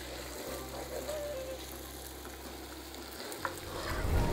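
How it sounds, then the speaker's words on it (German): Chicken pieces sear in a hot pan for a traditional chicken curry, giving a steady close sizzle and frying hiss with occasional stirring clatter over a low kitchen hum. "Das Hühnchen, das brate ich jetzt einmal schön scharf rundherum an."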